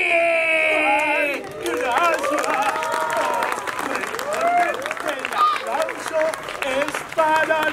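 Lively audience applause and cheering at a puppet theatre show, mixed with crowd chatter and excited voices throughout, fairly loud and close.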